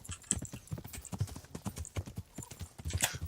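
Horse hooves clip-clopping in Kingdom Come: Deliverance, a steady run of close hoof strikes at an irregular walking rhythm, with brief faint bits of other game sound.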